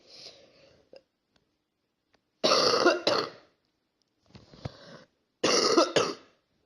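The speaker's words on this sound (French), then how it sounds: "Excusez-moi, j'ai toussé, je suppose que vous l'avez entendu" Two bursts of coughing, each a pair of harsh, loud coughs, with short quiet gaps between them and a few faint breaths and small mouth sounds before.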